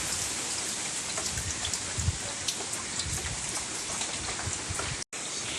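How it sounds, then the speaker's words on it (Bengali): Heavy rain pours over a village home after an overnight storm, a dense steady hiss of countless drops striking surfaces, with scattered louder splats and a brief cut in the sound near the end. "দেখো কি বৃষ্টি।"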